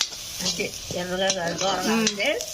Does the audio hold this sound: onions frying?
yes